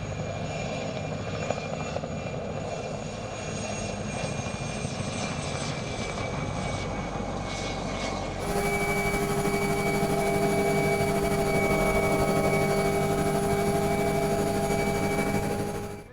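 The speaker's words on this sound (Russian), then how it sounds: "Вертолет абхазских авиалиний 2 раза в день при хороших погодных условиях производит вылет и опрыскивание" A spraying helicopter flies over hazelnut plantations, its steady engine and rotor drone holding constant throughout, then growing louder and more tonal halfway through as it comes nearer.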